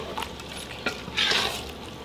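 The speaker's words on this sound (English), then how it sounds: "then we're just going to stir that up" Chili with pinto beans and frozen corn being stirred in a pot, soft scraping and wet shuffling with a brief brighter swish near the middle, close and quiet.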